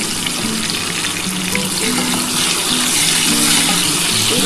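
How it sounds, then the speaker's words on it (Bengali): Potatoes and jackfruit seeds fry in fish oil in a pan, giving a loud, steady broadband sizzle that holds continuously throughout with no talking. "আমার কিন্তু আলু আর কাঁঠালের বিচিটা ভাজা হয়ে গেছে"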